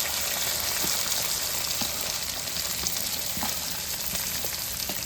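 Onions fry in a pan with a dense, steady sizzle. Occasional faint taps come from stirring. The sound is close and continuous, with no voices.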